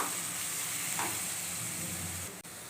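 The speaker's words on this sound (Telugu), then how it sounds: "ఉల్లిపాయలు అయితే మనకి ఫ్రై అయిపోయినాయి కొంచెం ఉడికిపోయినాయి కాబట్టి నేనైతే ఇప్పుడు టమాటాలు వేసేస్తున్నాను" Tomatoes dropped into a pan of frying onions for tomato rice produce a steady close sizzle and hiss with stirring, the frying noise continuous and fairly loud before a brief dip near the end.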